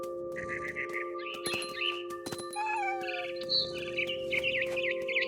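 A mother bird in the video game What Remains of Edith Finch clucks in short, fowl-like calls, close and clear, layered over a steady low tonal game ambience with a few sharp accents and rising chirps.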